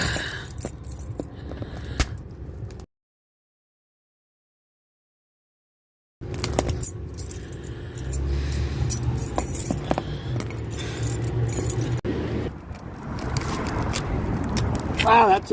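Keys jangle and clink near the boot of a car, with scraping handling sounds, a stretch of dead silence, then ongoing rustle and people talking throughout.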